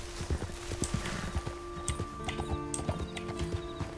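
Horse hooves clip-clop in Red Dead Redemption 2 with a steady rhythmic gait, close and distinct, alongside occasional snorts over a game ambience with no talk.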